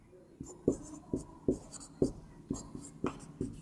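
Pen writing an answer by hand on paper, heard as soft, close scratchy strokes in a steady, evenly spaced rhythm, quiet and alone.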